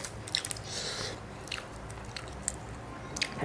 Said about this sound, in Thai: เสียงกรอบ